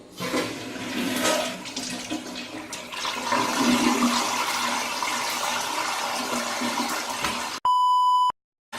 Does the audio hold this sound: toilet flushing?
yes